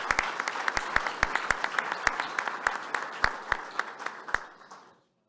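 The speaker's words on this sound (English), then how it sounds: "I think you deserve a big round of applause for all the things you've done." Applause from a small audience at a forum on AI and well-being, a modest crowd clapping with distinct sharp claps standing out, steady for about five seconds before stopping abruptly.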